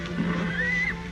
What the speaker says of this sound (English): It's Billy the Kid's horse.